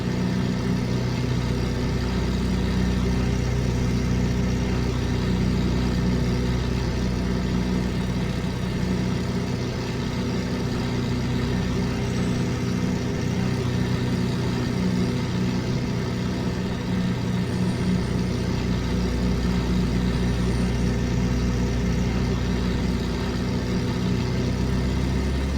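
Auster J1 light aircraft engine in a flight simulator, a steady, loud, low droning hum that holds an even, continuous tone throughout with no voices.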